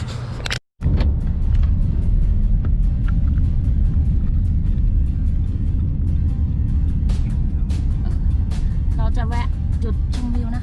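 A car drives along a road toward a scenic viewpoint in Sedona, its engine and tyre noise a steady close rumble throughout, with people talking over it.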